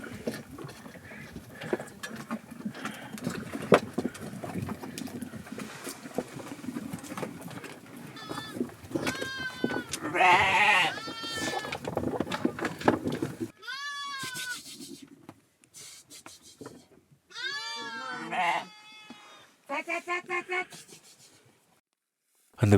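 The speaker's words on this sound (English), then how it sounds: "The sheep and goats are fed a liquid containing a mixture of barley flour and leftover food" Sheep and goats at winter feeding in a Zanskar village, with bleats rising over a busy, noisy background; later, louder calls come in separate bursts between quieter gaps.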